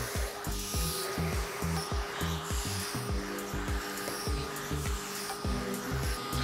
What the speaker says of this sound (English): there's a lot of fur that is being sucked into the vacuum cleaner already